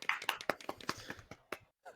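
Small meet-up group clapping in a room, a couple of seconds of uneven, scattered handclaps that thin out and stop, followed by a brief pause and a single last clap.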